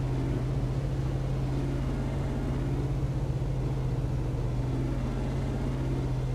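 A 2017 Ford Raptor's engine in American Truck Simulator drones steadily under full throttle, a continuous low hum with road noise and no talk.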